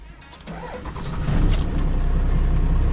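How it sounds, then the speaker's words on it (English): A Cummins diesel truck engine cranks and catches, then settles into a loud, steady rumbling idle close by. "Get the truck started."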